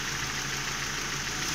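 A car engine runs steadily at raised revs during an alternator charging test, giving a loud, continuous mid-range drone with no talk over it.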